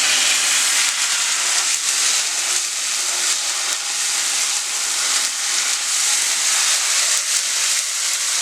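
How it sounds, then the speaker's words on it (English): Canned tomato sauce fries in a hot pan for soup, giving off a continuous loud sizzle and hiss with faint pops scattered through it and no talking. "we want to put the tomato in first because we want to fry the tomato sauce."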